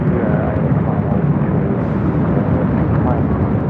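A British Airways airliner takes off at LAX, heard as a loud, dense jet roar with a broad rumble holding steady throughout and no break, fairly close.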